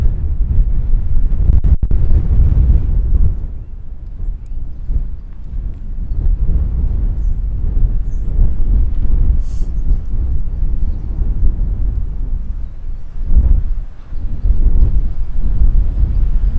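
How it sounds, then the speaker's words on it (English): Outdoor wind buffets the microphone in a continuous low, rumbling roar at an archery shooting spot, with one sharp knock near the start and a brief lull before the blustering resumes. "Wind is blowing me all over the place."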